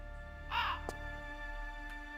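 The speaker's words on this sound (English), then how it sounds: "There's a freaking bird flying around." A bird in Tomb Raider III lets out a single short, harsh caw, crow-like and fairly close, over a steady electronic hum with a faint click afterward.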